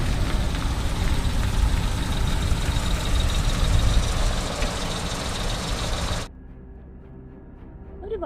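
A vehicle arrives with its engine idling, a loud, steady low rumble that runs for about six seconds and then cuts off abruptly, leaving near silence.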